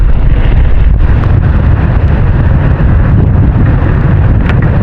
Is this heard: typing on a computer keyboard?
no